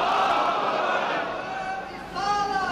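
A crowd at a religious gathering commemorating the Battle of Badr roars the Takbir chant in unison, a loud, sustained swell of many voices that dips briefly and then rises again.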